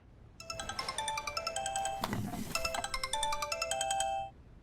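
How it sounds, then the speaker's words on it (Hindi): A phone ringtone plays a bright, repeating electronic melody, loud and close, with a brief rustle in the middle before it cuts off. "कवल का फोन है"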